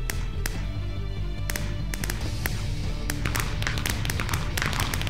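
Fireworks go off in the Minecraft video game, a sequence of sharp crackling pops and bursts at irregular intervals over a steady background hum.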